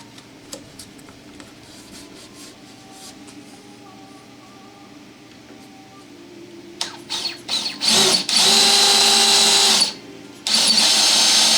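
Drill boring a large hole for a brake handle pivot bolt, taped on the back side: quiet workshop hum, then the drill whines up in a few short bursts before two long, loud sustained runs with a brief pause.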